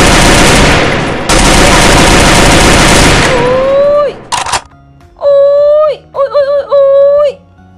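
Loud, dense automatic gunfire in the Free Fire battle royale game rattles continuously for about four seconds. Sharp bursts follow, then tonal in-game sounds or vocal groans close the passage.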